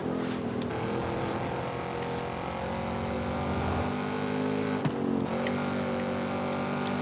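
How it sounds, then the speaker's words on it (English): Car engine in the racing game Forza Horizon 5, a loud steady drone with a sustained harmonic hum and slight pitch shifts as the car drives, echoing as if off nearby walls, with no talk. "you can just hear the sound of your engine like bouncing off the wall and coming back at you"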